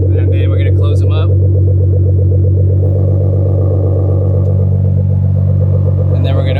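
A Nissan GTR with an Fi exhaust, valves open, idles with a loud, deep, steady burbling rumble close by, a raspy engine note holding constant throughout with no talk over it.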